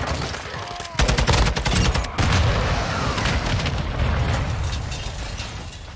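Heavy gunfire and blasts in Call of Duty: Modern Warfare II, a sudden loud burst of rapid shots followed by a booming explosion and continued firing that slowly trails off.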